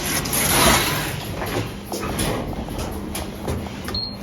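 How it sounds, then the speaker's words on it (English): Train doors slide open at a newly built station, a broad whooshing rush with a soft mechanical rumble under steady platform noise. "Doors opening."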